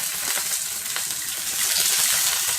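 Chopped onion frying in a pan of oil with mustard seeds, peanuts, curry leaves and green chilli pieces, a loud, continuous close crackling sizzle with no voices.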